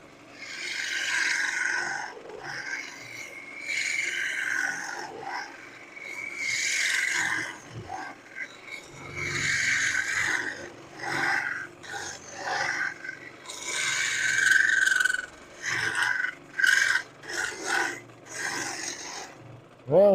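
A spindle gouge cuts wood on a lathe, giving repeated rasping, scraping strokes in bursts with short gaps, moderately loud and without talk.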